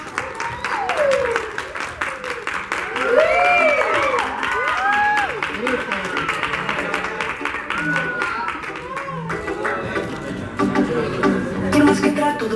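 An audience at a press conference in Mexico applauds and cheers for a band. The clapping is steady and fairly loud throughout, and a few voices and shouts rise above it.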